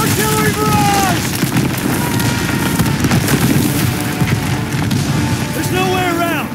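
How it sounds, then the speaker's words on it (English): An artillery barrage from a 1944 World War II battle rolls on as dense, continuous booming and rumbling explosions, while shells whistle overhead with descending whines near the start and end. "Artillery barrage!"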